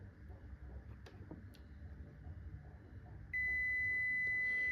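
A multimeter beeps for a continuity test on a newly soldered fuse in a car battery charger's primary circuit. A steady tone starts partway through and holds to the end over low room hum.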